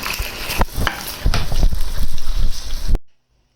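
Onions with whole garam masala spices fry in a pan for aloo keema, making a close, busy sizzle with stirring clatter and scraping, which cuts off abruptly near the end.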